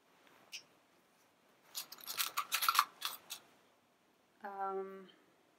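A quick run of crisp metallic snips, several in close succession, followed by a brief voiced sound at the end.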